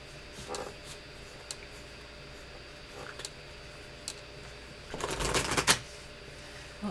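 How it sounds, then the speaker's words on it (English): Tarot cards shuffled by hand in a brief burst of riffling flutters near the end, after a few soft isolated card taps in a quiet room. "so far I was able to shuffle without a problem"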